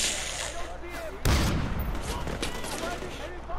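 Gunfire in the shooter game Far Cry 4, a sharp shot followed by a dense roaring volley and echoing rumble, loud and close, with background game sounds before it.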